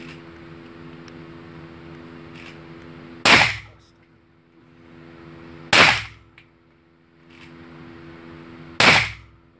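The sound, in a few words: gunshots during shooting practice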